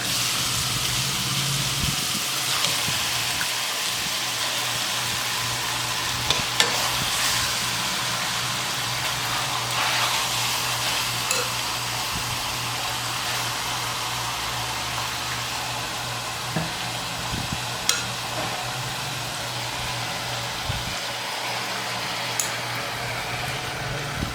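Steak pieces for Puerto Rican bistec encebollado go back into a pan on a stove at medium heat, giving a steady, continuous sizzle and crackle throughout with a few small pops and clinks, no talking.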